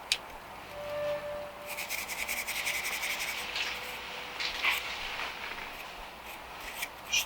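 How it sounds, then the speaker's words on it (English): A steel brush scrubbing surface rust off a deeply pitted steel bonsai tool, close by in repeated rough back-and-forth scratching strokes, quiet but distinct, with no talking. "hit it with my steel brush here. Just get that surface rust off of there."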